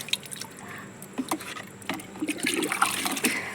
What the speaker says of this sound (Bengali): আমি এখন এই জলটার মধ্যে জল মিশিয়ে নিই